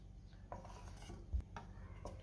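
A spoon stirs a pea and potato vegetable curry in a pressure cooker pot, making a few soft scraping and clinking strokes against the metal, quiet and close, with a low steady hum underneath.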